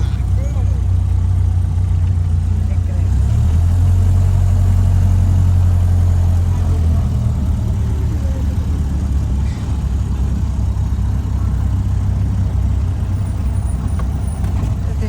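A Ford Model A, nicknamed Mabel, rumbles steadily while carrying passengers on a ride, a constant low engine drone with road noise that stays loud and unbroken throughout.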